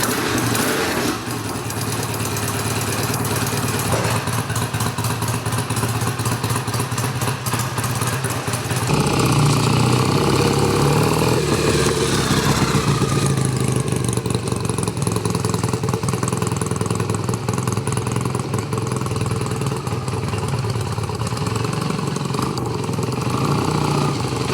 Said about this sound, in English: Just going to show you a hot start now.